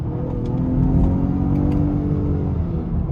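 A 2022 Lincoln Aviator Reserve's boosted 400-horsepower engine revs and accelerates, a loud, close, continuous rising roar with no voices.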